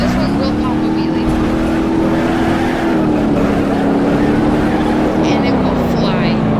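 A drag car in the BeamNG.drive game accelerating hard to pop a wheelie, a loud sustained engine drone with rising and falling pitch, with a voice talking over it.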